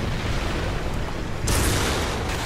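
A tank cannon shell strikes a T-55AM-1 in a War Thunder realistic battle, a loud, dense blast of noise that jumps sharply midway and rumbles on without pause.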